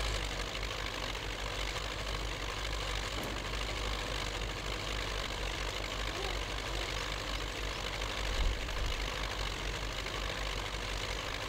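A tractor engine in the off-road driving game Spintires runs at a steady idle-to-low rumble for the whole stretch, a continuous mid-loud drone with no speech over it.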